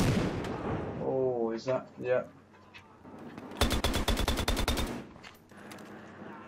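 Rapid automatic gunfire from a gun in the video game Battlefield Hardline rattles off in one loud, evenly spaced burst of about a dozen shots, following a brief stretch of talk.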